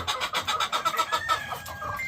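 A breeding hen of Ilgama gamefowl bloodline clucks close by in a rapid string of short, evenly spaced clucks, rising into a slightly longer drawn note near the end.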